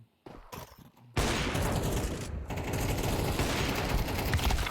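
Sustained automatic gunfire in Counter-Strike: Global Offensive, a dense loud burst that begins abruptly after a second of quieter clicks and mechanical sounds and continues without pause to the end.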